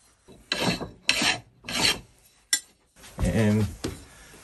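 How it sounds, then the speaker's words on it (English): Hand sanding of a metal part smooth for fitting a DRO to a round column milling machine: several short rasping strokes in a rhythmic back-and-forth pattern, close and fairly loud, with a longer rub near the end. "Just gonna give it a wee sand down, look, get it a bit smoother."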